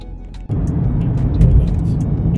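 Car interior on a drive home near Seattle, with a steady low engine and road rumble that starts abruptly and holds close and even throughout.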